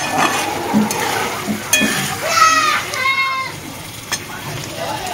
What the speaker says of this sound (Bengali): আমি আলুটা আলাদা ভেজে তুলে রাখিনি মশলার সাথে দিয়ে কষাচ্ছি